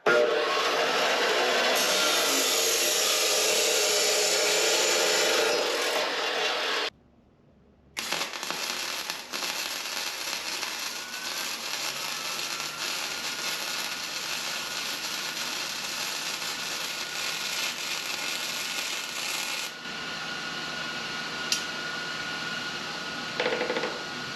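A power tool cuts through a metal part for a DIY trailer accessory, giving a loud, continuous harsh grinding that drops out for a moment, then carries on steadily for a long stretch.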